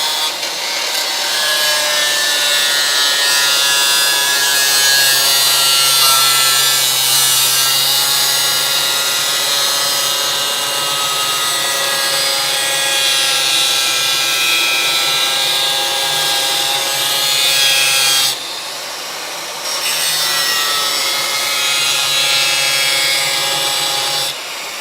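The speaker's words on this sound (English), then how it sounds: "So now I'm going to see if we can grind these spot welds off." Disc grinder grinding off spot welds on a car's passenger-side inner rocker panel, a sustained high whining grind held loud and close, dipping briefly near the end before resuming, with no speech.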